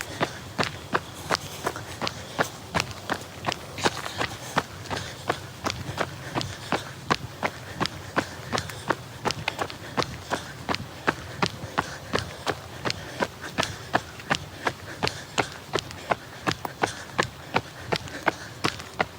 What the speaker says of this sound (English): I could hear my footsteps.